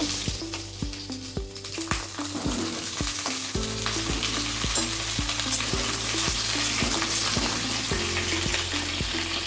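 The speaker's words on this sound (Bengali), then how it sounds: "প্রথমে আমি গরম কড়াইয়ের মধ্যে সর্ষের তেল দিয়ে এর মধ্যে পটলগুলো দিয়ে দেবো, ভালো করে নেড়ে নেব।" Sliced pointed gourd frying in mustard oil in a hot wok, with a constant busy sizzle and quick, repeated stirring clatters of a spatula against the metal, heard up close.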